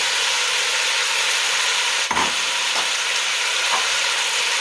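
Green pepper sizzling in a hot pan for chili, a loud continuous frying hiss close up, with a few brief scraping stirs partway through.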